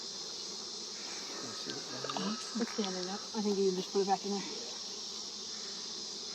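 Honey bees buzz at an open hive during an inspection of frames with eggs and larvae, a steady dense drone that runs throughout beneath people talking nearby.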